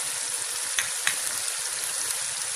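Egg and chickpea curry sizzling steadily as it fries with spices in a pan, a continuous close frying hiss with a few faint stirring clicks, no voices.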